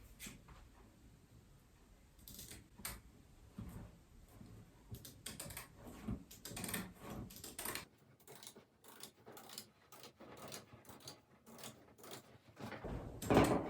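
Sinamay fabric is cut along chalk lines, making a series of soft crisp scissor snips and rustles, intermittent and close in a quiet room.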